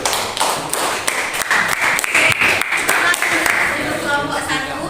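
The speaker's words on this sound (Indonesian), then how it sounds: "Kita beri aplaus dulu untuk kelompok." Classroom applause for a student group, a dense spread of claps lasting several seconds, fairly close and loud, with voices chattering underneath.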